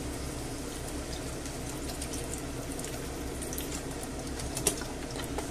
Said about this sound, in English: And I'll top it up with the fish and seafood broth